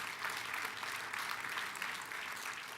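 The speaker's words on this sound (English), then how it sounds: "let's give him a round of applause" An awards gala audience gives a round of applause. The clapping is sustained and even, heard from a slight distance in a large room, with no speech over it.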